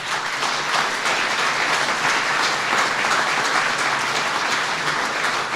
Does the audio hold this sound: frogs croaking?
no